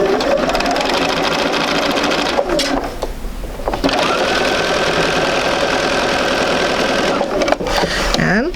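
A sewing machine stitches pieces of an intermediate sampler quilt along lined-up raw edges, running in a steady, loud mechanical whir with brief pauses near three seconds and again before the end.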